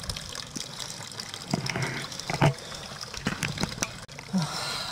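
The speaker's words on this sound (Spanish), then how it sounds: "llegamos a la superfuente. Qué agua más guapa" A trail fountain near Montserrat keeps up a steady flow of water, heard close while a runner pauses on a long mountain training run. Brief knocks and handling sounds break in over it, with a little faint voice.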